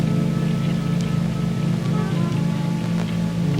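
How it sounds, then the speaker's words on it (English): Steady rain falls with a dense, even hiss and occasional louder drips throughout, close and continuous, with no voices. "It's still raining. Why is it still raining?"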